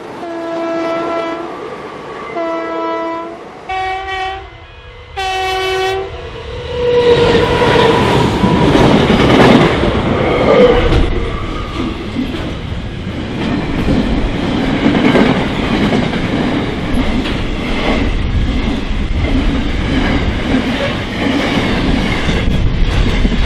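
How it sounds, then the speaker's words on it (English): An Albury intercity train sounds its horn in several short toots, then roars past nearby with rushing wind and rhythmic clattering wheels. "Friendly toot from the driver as an Albury intercity train rushes by"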